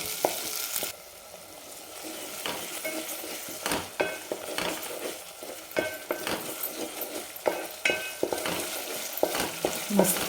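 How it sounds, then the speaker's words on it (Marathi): Roasted masala sautéing in oil in a pot for a mutton curry, with a steady soft sizzle and repeated sharp scrapes and taps of a spoon stirring against the pan, close by and with no voices. "छान 1 मिनिटभर आपल्याला परतून घ्यायचं"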